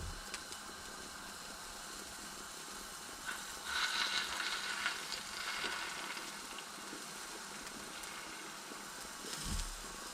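Deer sausage frying in hot lard, a steady close crackling sizzle throughout with a few louder pops and a stirring clatter near the end.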